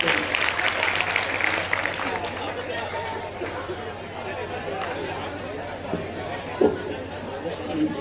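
An audience at an all-India poetry gathering (kavi sammelan) held at an intercollege claps amid crowd chatter and babble, the applause strongest at first and then fading under general noise and a low hum.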